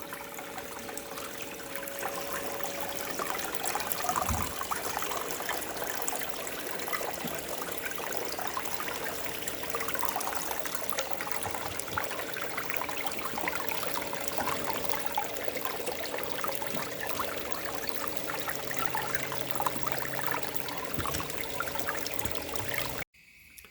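Water runs steadily through a Klesh Golden Krums sluice as it processes material, a constant close trickling and splashing wash that holds at even loudness before stopping abruptly near the end.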